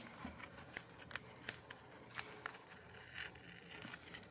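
Cheap double-sided tape torn by hand for a travel journal, giving a few sharp, close crackling rips scattered over a quiet background.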